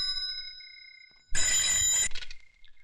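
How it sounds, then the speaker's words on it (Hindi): A telephone bell rings in one loud, dense burst of about three-quarters of a second, then trails off. Before the ring, faint steady tones hang in a quiet room, with no talk. "लो भैया बज गई आपकी घंटी।"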